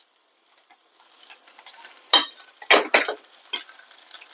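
A spoon stirs dried coconut and tomato as they roast in a pan for paneer kofta gravy, making soft scraping sounds and light sizzles in irregular bursts close by.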